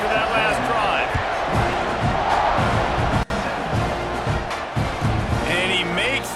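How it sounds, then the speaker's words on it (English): A college football stadium crowd roars steadily and loudly during a kickoff, with rhythmic thumps and a commentator's voice over the din. "this crowd is feeling themselves after that last drive"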